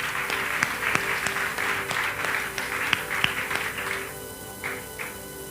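A church congregation applauding during a sermon, a dense burst of many hands clapping that continues for several seconds and then thins to a few scattered claps at the end.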